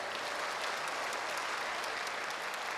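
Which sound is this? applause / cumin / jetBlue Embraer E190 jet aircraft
applause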